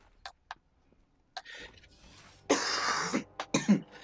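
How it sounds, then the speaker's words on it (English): A few short coughs from someone recovering from sickness, then a longer rough burst of coughing and throat clearing, close and fairly loud. "I apologize for coughing."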